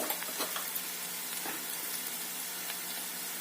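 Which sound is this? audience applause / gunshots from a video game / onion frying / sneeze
onion frying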